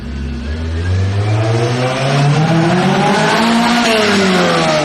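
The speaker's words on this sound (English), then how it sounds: "The exhaust as well is stupid loud. I'm gonna throw up a clip." A Toyota MR2 with a very loud aftermarket exhaust revs hard, its engine note rising and holding in a loud, close, continuous roar with no talking.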